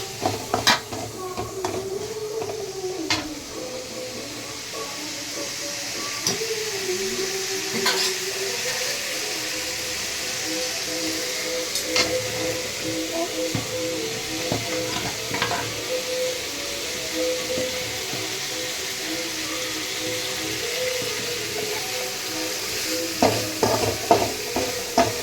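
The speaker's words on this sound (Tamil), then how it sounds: "நாட்டுக்கோழி ரசம் கொதிக்குது பாருங்கள்" A pot of village-style country chicken rasam bubbles and sizzles continuously for a long stretch, with scattered clinks and scrapes of a utensil against the pot.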